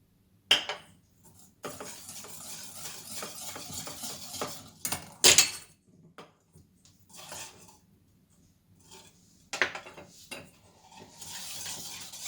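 Pancake batter with milk being whisked in a bowl for Japanese pancakes: bursts of clinking and scraping come close and fairly quiet, broken by short pauses and a few sharper knocks against the bowl.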